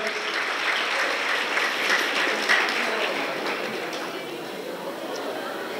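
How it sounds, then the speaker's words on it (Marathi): Sustained applause from an audience welcoming a guest, including an Indian army chief, to the stage at a public gathering, a steady dense clatter of many hands that holds throughout and eases slightly toward the end. "आपण सर्वांनी टाळ्या वाजून त्यांचं स्वागत करूया."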